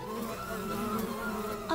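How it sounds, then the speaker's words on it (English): A bee hums steadily up close in a continuous droning buzz that wavers slightly in pitch, heard on its own without speech. "From a faraway hive flew this hard-working, honey-sweet bee."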